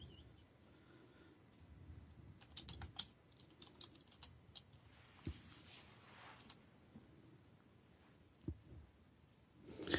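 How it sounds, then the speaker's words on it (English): Faint keyboard typing in a quiet room, scattered soft key clicks in irregular bursts with a few louder taps, low background hiss and no talking. "I'm noticing typing."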